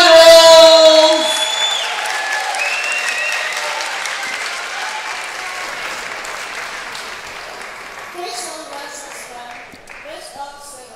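A crowd applauds ahead of the 2015 US Open men's singles table tennis final, with a loud burst of clapping, cheers and a few whoops that gradually fades into a lingering patter of claps.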